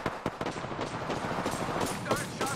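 Scattered gunfire in a round of the battle royale game Apex Legends, several sharp shots and short bursts at mid-distance with game ambience between them.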